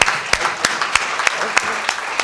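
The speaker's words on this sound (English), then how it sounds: "can we have a huge round of applause for our Toastmaster?" A conference hall audience applauds the Toastmaster, with steady clapping throughout and sharper individual claps standing out at regular intervals.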